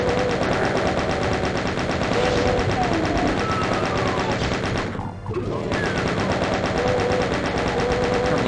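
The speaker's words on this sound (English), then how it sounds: "Then I'm just going to fire blindly into the darkness." A chaingun in Doom II fires continuously into a dark room, a dense, loud, rapid rattle that runs the whole way with one brief break near the end.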